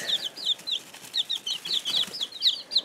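Silver-laced Cochin chicks, fuzzy-footed birds, give soft repeated chirping clucks in quick bursts, fairly close and steady through a quiet indoor setting, with no talk over them.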